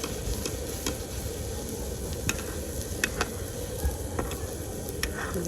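Malpua batter made with palm fruit frying in a pan, a low, steady bubbling sizzle close by with occasional faint clicks, no one speaking.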